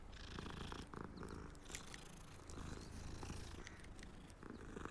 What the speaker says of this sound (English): Hey Kitty, you're the cutest one.